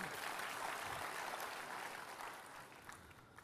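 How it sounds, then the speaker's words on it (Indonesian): Congregation applauding during an Indonesian church sermon, a dense wash of clapping from a large room that stays steady, then slowly thins and fades toward the end. "Berikan tepuk tangan buat Tuhan Yesus ya."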